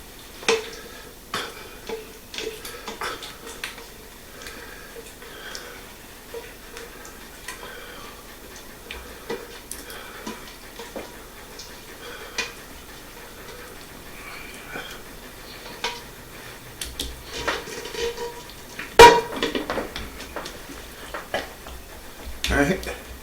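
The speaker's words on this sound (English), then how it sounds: "let's put our potatoes in our baking dish" Sliced potatoes being put into a baking dish for au gratin: scattered light clinks and taps of dish and utensils, soft and intermittent, with someone talking over them.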